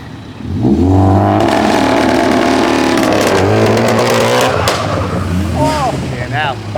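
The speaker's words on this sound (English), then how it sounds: "Come on, lad, give us a rev." A car engine revs loudly at a car meet, rising and falling through several strong bursts, with nearby people talking over and between the revs.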